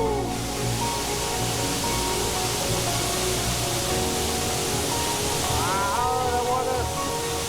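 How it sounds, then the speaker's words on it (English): A huge waterfall in the Dolomites, heard from directly underneath: a constant, loud roaring rush of falling water, with brief voices and an exclamation partly buried in the noise. "We are underneath a very huge waterfall"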